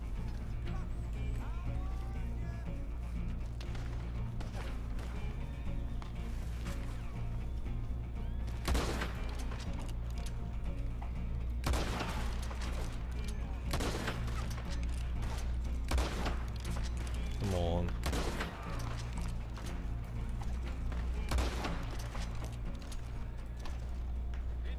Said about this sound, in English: Using sniper rifle.